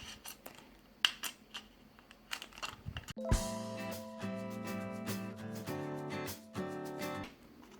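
Scissors cut through a plastic bowl to free its lid and bottom, close and crisp: a few scattered snips come first, then a dense run of rasping, crackling cuts as the blades work through the plastic.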